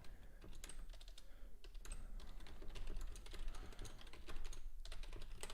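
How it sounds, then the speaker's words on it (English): A computer keyboard is typed on quickly and steadily, with dense, irregular clicking that carries on alone and close by for several seconds. "If you hear typing, that's just me making alerts into the private community that I offer."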